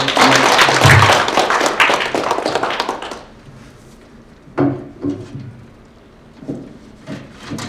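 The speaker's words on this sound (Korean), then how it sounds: "박수 좀 보내주세요." Audience clapping at a graduate-school AMP program opening ceremony, dense and loud for about three seconds before thinning into a few scattered claps.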